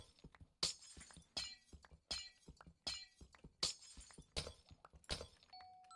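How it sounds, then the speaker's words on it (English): Glass blocks break one after another in modded Minecraft, about seven sharp shattering hits at a steady rhythm, each with a short bright tail, closing on a faint chime. "we're going to take out this front row of glass"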